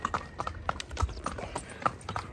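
Horses trotting on a guided ride near Nuwara Eliya, Sri Lanka, hooves clip-clopping in a brisk uneven rhythm of sharp knocks at close range, with faint background noise.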